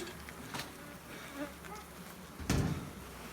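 Honeybees buzz around a hive in an open outdoor setting, a steady faint drone with occasional louder passes as individual bees fly close, ending in a brief nearby thump.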